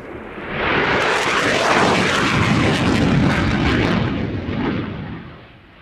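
A Belgian F-16AM fighter jet in flight roars loudly past, a broad jet-engine rumble that swells, holds steady for several seconds, then fades away.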